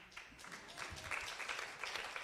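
Conference audience applause at a youth employment event's closing remarks, a faint, distant patter of scattered hands swelling slightly and continuing steadily for a couple of seconds.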